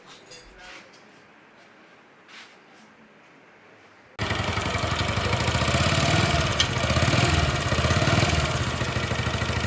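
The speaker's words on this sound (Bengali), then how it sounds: "সাইলেন্সার থেকে যে বাজে আওয়াজটা আসছে" A motorcycle with a faulty silencer runs steadily after a quiet start with a few faint knocks, its exhaust giving a loud, rough, rattling drone that fills the second half.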